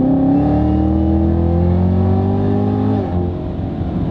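A 2019 Camaro ZL1 with a 650-horsepower engine revs loud and close, its engine note climbing steadily before dropping off as it eases, with no talking.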